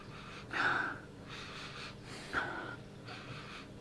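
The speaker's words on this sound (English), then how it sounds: "I think I've hyperventilated myself from sniffing so much then." Someone takes sharp sniffs at perfume samples, with two strong inhales and softer breathy sniffs between them, close and up front.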